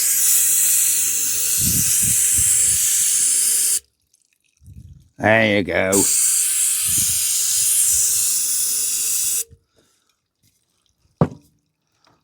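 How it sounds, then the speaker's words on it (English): Brake cleaner sprayed into a sludgy part during the restoration of a Ruston PB6 engine, two long steady aerosol hisses of several seconds each, close and loud, with brief speech and quiet gaps between them. "Brake cleaner."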